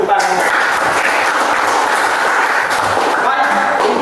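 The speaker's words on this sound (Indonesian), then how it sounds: "beri tepuk tangan" An audience at a Christian teacher-education session claps after a presentation, a continuous even patter of hands throughout, fairly loud and close, with a speaking voice blending in over it.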